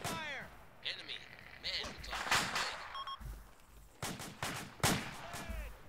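Gunfire in the military video game Arma 2, bursts of distant and nearer shots cracking in irregular clusters while several voices talk over the battle.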